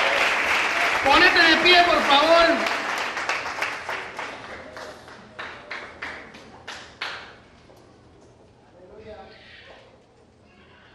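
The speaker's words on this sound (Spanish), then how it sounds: "Dale un aplauso fuerte al Señor." Members of a church congregation applaud loudly for the Lord, a dense burst of clapping under a speaking voice that thins into scattered individual claps and fades out.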